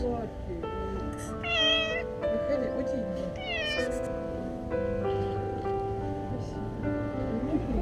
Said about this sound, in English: The cat was crying for help